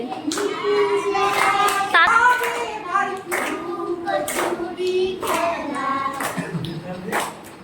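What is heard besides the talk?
children clapping hands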